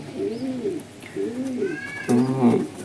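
A young giribaz pigeon, offspring of an old-line fulshira, gives three rounded, throaty coos close by, the last one louder and fuller, with faint background sounds between them.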